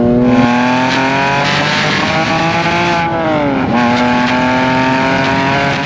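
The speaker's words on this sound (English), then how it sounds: "It has a valved exhaust" A manual Porsche 911 997 Carrera 2S with a valved exhaust holds a loud, steady, close engine drone, and the pitch dips briefly midway as the revs fall and then climb again, with no talk.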